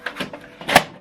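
An HP DeskJet 2630 all-in-one printer's cover is closed after ink cartridge installation, giving a few light plastic clacks followed by one louder, sharper snap as the lid settles shut, close by with no talk.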